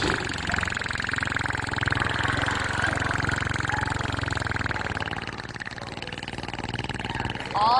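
A voice imitates an old single-cylinder pancar engine, a continuous low, rough chugging rumble held steadily for several seconds, close and loud.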